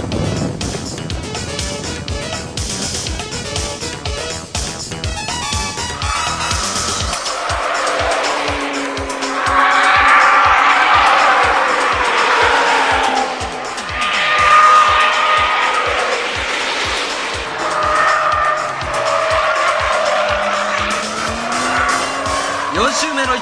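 Race cars cornering at Tsukuba Circuit in 1989, with Kurosawa's Supra closing in, loud engines revving and roaring past, tires squealing through the corners, and someone commentating over the din.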